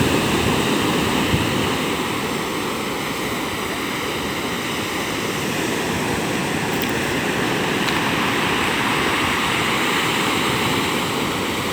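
Broad, steady roar of surf where a river flows into the sea, continuous rushing water and breaking waves close by with no voices.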